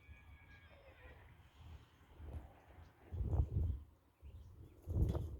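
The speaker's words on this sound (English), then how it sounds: "I just heard the horses over on 10th Street." Horses whinny at a distance from a neighboring street in a quiet outdoor setting, two faint, brief neighs rising over soft background noise a few seconds apart.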